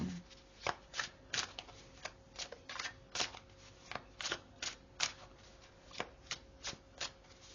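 Cards of the Ethereal Tarot deck are shuffled by hand in a steady run of crisp riffling bursts, each a short papery flutter, repeated about a dozen times at close range with no talking.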